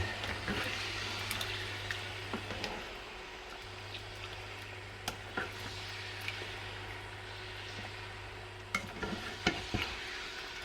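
Pork belly sizzles steadily in a hot pan with a sugar mixture while it is stirred and scraped, with occasional sharp clicks of a utensil against the pan.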